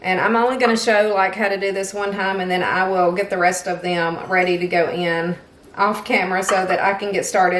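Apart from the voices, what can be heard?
No everyday noises stand out.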